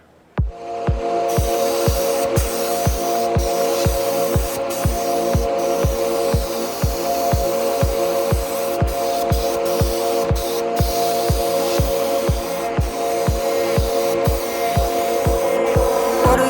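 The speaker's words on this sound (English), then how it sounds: "next is spraying. We're gonna start spraying the black base." Steady hiss of a spray gun running continuously, spraying black base paint on a Chevrolet Camaro ZL1, with a regular rhythmic ticking underneath throughout.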